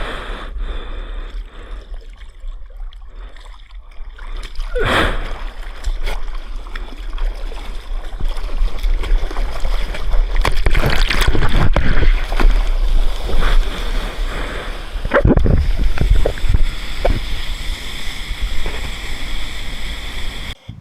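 Ocean waves while out surfing in hot sun, a broad continuous wash of water and wind noise that swells through the middle, with splashes and a sharp slap of water near the end.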